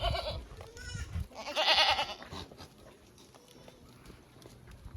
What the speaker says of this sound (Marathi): एकूण शंभर शेळ्या विक्रीसाठी उपलब्ध आहेत